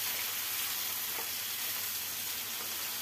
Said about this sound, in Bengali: চিকেনের টুকরোগুলো দিয়ে পেঁয়াজের সাথে একদম হাই ফ্লেমে ভালো করে ভাজবো।